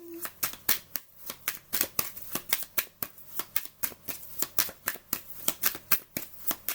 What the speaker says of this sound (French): En mélangeant les cartes.